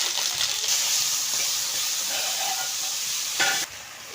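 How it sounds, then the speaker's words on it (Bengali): Cumin seeds and bay leaf tempering in hot oil, a steady loud sizzle and hiss with faint stirring, close and continuous, dropping off at the end. "জিরে আর তেজপাতাটা ফোড়ন দিলাম"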